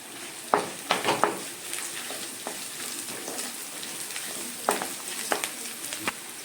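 Onions and carrots sizzle in a hot pan as they are stirred, a steady close frying hiss broken by a few sharper spatula scrapes and pops, with no talk.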